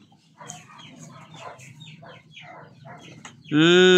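Pet chickens squabble with a run of short, overlapping clucks and squawks, ending in a loud, sustained harsh cry close by.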